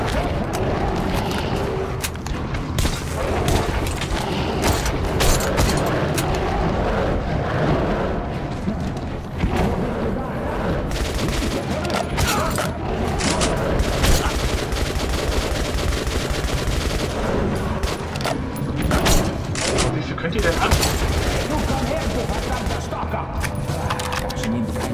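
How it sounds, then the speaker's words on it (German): Shotgun fire in the video game Metro: Last Light Redux, dense loud blasts and booming gunfire packed into a continuous rumbling mix of combat noise with no break. "Seltsam mit einer scheinbedampften Shotgun zu schießen."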